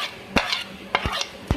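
A spoon stirs yogurt and ground browned onion into beef korma in a cooking pot, making a few close, soft scrapes and light clinks spaced apart, with no voices.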